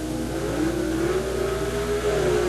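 Two Corvettes launch side by side at a 1976 NHRA drag race, their engines roaring steadily and rising in pitch, heard from a distance under crowd and track noise with no talk.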